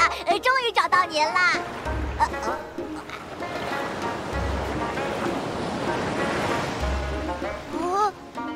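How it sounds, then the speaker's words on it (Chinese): Rough, fast-flowing waves of the Yellow River make a continuous rushing roar beneath animated voices talking over it, with a few louder surges of water throughout. "这是什么河？ 浪又大又急。"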